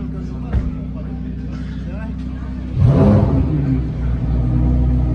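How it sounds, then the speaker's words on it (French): A sports car revs up nearby, a short engine surge that rises into a loud rumble partway through and then settles into a steady drone, with people talking over it. "T'as la voiture de Jules qui est là, au fond, là, elle est énervée"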